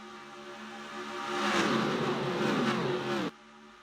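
NASCAR Racing 2003 pack of race cars: a steady engine drone swells into a loud, rising roar as the cars sweep close by, then cuts off abruptly.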